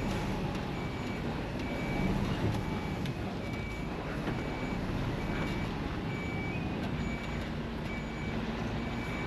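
Inside a car reversing to park, the steady rumble of the engine and road fills the scene while a faint, regular reversing beep repeats every half second or so throughout, with no talking.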